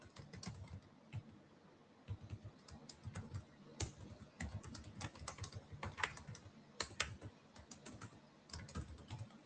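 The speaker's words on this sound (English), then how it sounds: "Typing out an essay, bro." Rapid typing on a computer keyboard, with irregular bursts of sharp clicks and key taps close to the microphone and no talking for nearly ten seconds.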